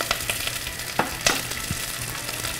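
Garlic hits golden onions frying in olive oil. A steady, dense sizzle runs throughout, broken by a few scraping stirs, close up with no voices.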